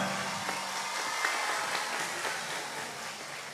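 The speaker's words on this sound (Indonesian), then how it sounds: "Tepuk tangan." A crowd at a live religious gathering in Gapura Timur applauds, a soft, steady patter of many hands clapping at a distance, fairly faint and continuous.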